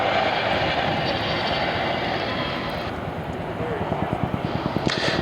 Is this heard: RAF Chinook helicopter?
yes